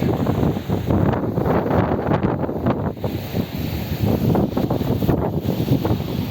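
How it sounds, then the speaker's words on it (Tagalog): Strong wind roars and buffets the microphone without pause, a dense, loud rush that swells and dips with the gusts. "Tingnan ninyo ang mga ano, ang lakas ng hangin guys."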